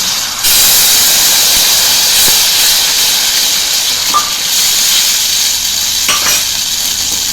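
Tomato puree hits a hot pan of fried onion, ginger and chilli paste, setting off a loud, steady hiss and sizzle that holds for several seconds, with a few faint clinks near the end.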